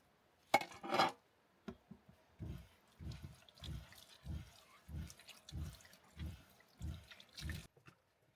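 Water from a van's tank splashes and trickles in a series of bursts, roughly one per second, into a sink or basin close by, after a brief louder gush at the start.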